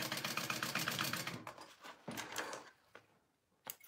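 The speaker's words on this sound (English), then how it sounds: "This is how I usually do stuff like this when I'm sewing on my own." A home sewing machine runs at a quick, steady mechanical rhythm while stitching a Harlequin tote bag, then stops, leaving a few soft clicks and handling noises. The sound is close and quiet.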